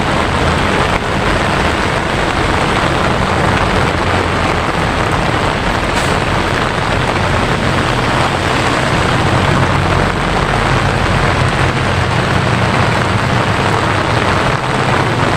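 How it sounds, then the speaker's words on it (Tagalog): Steady, heavy rain pours without pause, a dense hiss of drops hammering a surface close by, with no voices, outdoors where anglers are fishing. "Ang hirap po mag-video pag ganito ang lakas ng ulan."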